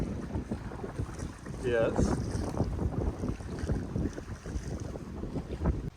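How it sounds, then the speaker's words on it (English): Wind rushes and buffets the microphone while kayaking on a bay off Vancouver Island, a rough continuous roar with a brief voice and light splashing. "It's a little windy."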